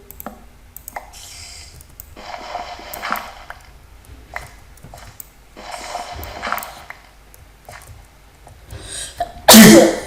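A single loud, abrupt sneeze bursts out at the very end, following quieter scraping and rustling sounds during Minecraft gameplay.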